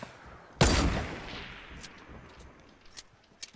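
A single loud gunshot blast in the video game Fortnite rings out and decays over about a second, followed by a few faint distant shots.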